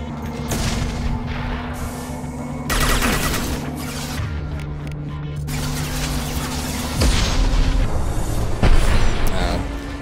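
Missiles from a gunship exploding in Mass Effect 2: several heavy booming blasts strike in succession over rumbling background gunfire, loud and close.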